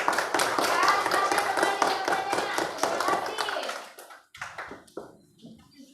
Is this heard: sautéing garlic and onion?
no